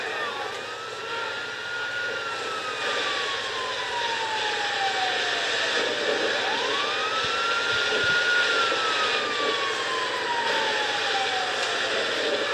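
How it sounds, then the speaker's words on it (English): Ambulance and fire truck sirens in the video game GTA Online wail in slow rising and falling sweeps over a steady engine-like hum, moderately loud and continuous. "Like, there's an ambulance and a fire truck."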